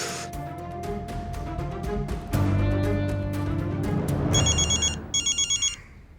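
A telephone rings in short repeated electronic bursts near the end, following a stretch of dramatic music and clatter.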